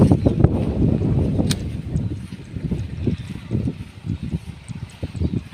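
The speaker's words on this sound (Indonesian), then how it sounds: "Anginnya banter." Strong gusty wind blows across an open kite-flying field in Nganjuk, buffeting the microphone with loud, uneven low-pitched rumbles and surges that rise and fall continuously.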